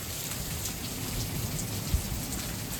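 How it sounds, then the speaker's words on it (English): Good-sized hail pelts a van during a fierce passing storm, a constant dense hiss and clatter at close range with one sharper knock partway through, and no talking. "Van's getting pelted. Pretty gnarly storm coming through right now."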